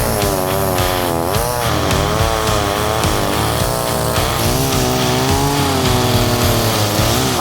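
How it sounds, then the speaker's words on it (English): A chainsaw carving wood, its engine loud and close and revving up and down continuously, with no speech. "I'm talking about wood carving with a chainsaw."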